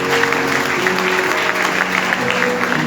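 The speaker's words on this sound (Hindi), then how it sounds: "जोरदार ताली सच्चाई के लिए।" Live worship audience in Lahore claps steadily, a loud continuous wash of hands close by with music tones sustained underneath.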